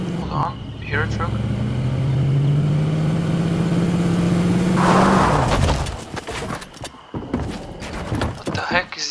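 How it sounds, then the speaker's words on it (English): Truck engine in a video game, a loud rising engine drone that climbs steadily in pitch for several seconds, then cuts out into clattering game noise while a player talks over it. "Hold on, you hear a truck?"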